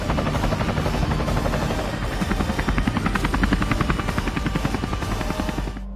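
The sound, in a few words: helicopter flying, drama sound effect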